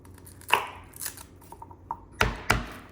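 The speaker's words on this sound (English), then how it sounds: "it does not matter if I smash or crush the garlic cloves a little bit." Garlic cloves smashed and crushed on a cutting board, giving a few sharp, sudden thumps and knocks scattered unevenly, with two heavy hits near the end, close by with no voices.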